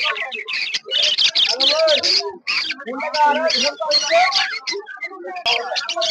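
Many lemon and red-eye budgerigars at a busy bird market chirp and warble nonstop in dense overlapping calls, with a voice talking underneath.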